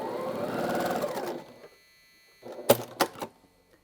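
A sewing machine stitches quilt pieces in a short, steady burst up close, then falls quiet, followed by a few small clicks and handling noises.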